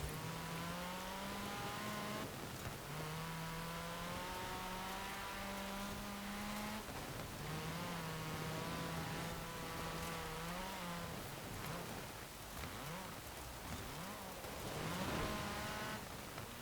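A car in Forza Horizon 4 drives on snow during a rally seasonal championship, its engine droning steadily at close range with shifting revs, then turning rougher and more broken toward the end.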